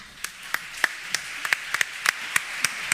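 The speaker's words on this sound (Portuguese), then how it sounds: "Uma salva de palmas." A sparse audience at a Portuguese HR conference gives scattered applause, about a dozen distinct claps standing out at a loose, uneven rhythm over a faint bed of quieter clapping and room murmur.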